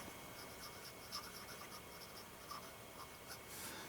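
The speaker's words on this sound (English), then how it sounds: "no matter how you write with it, it's got that feedback noise to it." Faint, scratchy friction of a circa-1920s Eclipse fountain pen nib gliding across paper, with soft strokes and small ticks over a quiet background hiss.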